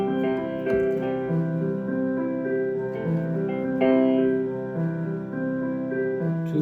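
Sustained piano chords played with both hands shift smoothly from one to the next, full and moderately loud, with no talking.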